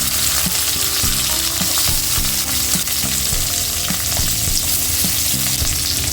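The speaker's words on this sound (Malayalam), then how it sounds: "അപ്പോൾ അതിനകത്തോട്ട് നമുക്ക് സ്ക്വയറിൽ അരിഞ്ഞ ഒണിയൻ ഇട്ട് കൊടുക്കാം." Square-cut onion frying with ginger and garlic in a pan for Gobi Manchurian makes a loud, continuous sizzle with a regular stirring scrape running through it and no talk.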